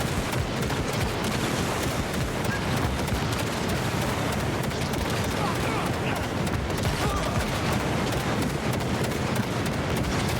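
Dense, continuous alternative-fire gunfire in Cyberpunk 2077, a rapid fusillade of shots blending into a steady crackling roar without pause, with game sounds mixed in.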